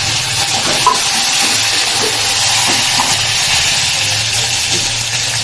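Onions, curry leaves and coriander fry in a pan for an energy dosa batter mix, producing a loud, dense, unbroken sizzle close up.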